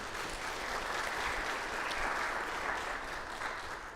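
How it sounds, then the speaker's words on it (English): A round of applause fills a sanctuary hosting a community meeting on water, the steady, dense clapping of an indoor audience sustained evenly from start to finish. "Please give them a round of applause if you don't mind."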